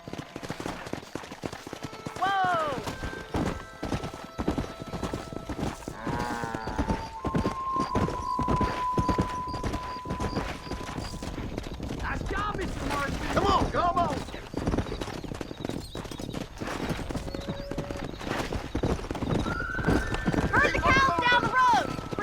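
Steady clip-clop of horse hooves in the Western game Red Dead Redemption runs under a long stretch of character dialogue, with several voices talking over the rhythmic trotting and occasional snorts from the horse.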